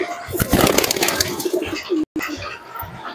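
Deshi pigeons coo nearby, soft repeated throaty calls mixed with a brief flutter of movement, with a short silent gap partway through.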